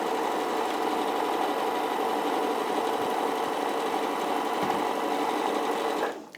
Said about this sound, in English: So we'll sew back down here.